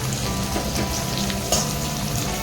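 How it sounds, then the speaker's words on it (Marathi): Onion sautéing in hot oil in a pan while noodles are made from jowar flour, a steady close crackling sizzle with a few brief pops. "छान हलका परतून घेणार आहोत आपण हा कांदा."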